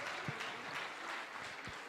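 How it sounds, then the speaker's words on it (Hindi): Audience applause fills about two seconds, steady and dense but faint and distant, with no voices over it. "जोरदार तालियां"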